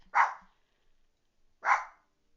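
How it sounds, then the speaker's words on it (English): A dog barks twice, single sharp barks about a second and a half apart, moderately loud against an otherwise quiet room. "Enjoy the dog barking."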